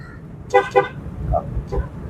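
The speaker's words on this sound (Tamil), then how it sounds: "ஹாரன் ஒரு முறை." Two short honks from a car horn in quick succession, fairly close, over a low road rumble, followed by fainter tones.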